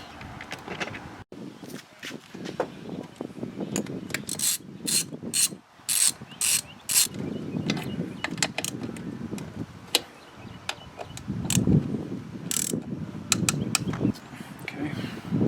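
Bolts and nuts go back onto the throttle body of a 1999 Toyota Tacoma, with close repeated ratchet clicks and metallic clinks in short bursts, some scrapes and handling noise between them.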